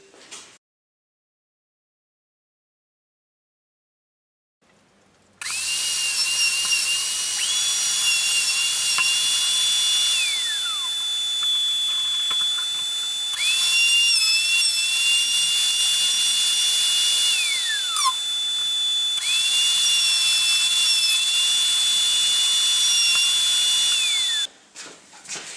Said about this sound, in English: drill these set of holes